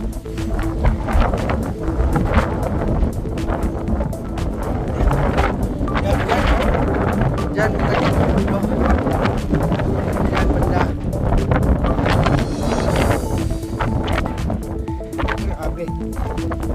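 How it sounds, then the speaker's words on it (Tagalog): Strong wind roars and buffets the microphone constantly at Sulby Lake, a loud rushing noise with gusts, while a person talks over it. "Ang lakas ng hangin."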